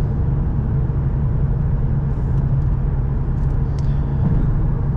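A Cupra car's engine runs steadily while warming up, a loud close continuous low rumble with faint higher whine and no voices.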